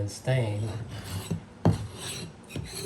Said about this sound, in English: And it scrapes it right up.